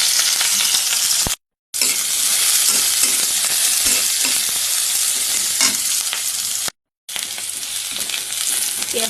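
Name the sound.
onion and green chillies frying in a wok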